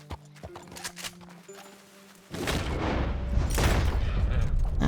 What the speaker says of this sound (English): Our horse is a little anxious from the gunfire.